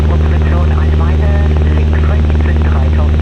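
Mooney M20J-201 propeller airplane in flight near Aachen, Germany: a loud, steady engine and prop drone with strong low harmonics fills the whole stretch, with cockpit voices talking over it.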